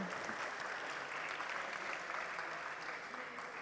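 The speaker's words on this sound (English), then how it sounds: "warm round of applause to all of them" Steady, dense applause from a conference audience, many hands clapping together at a fairly even level throughout, with no voices over it.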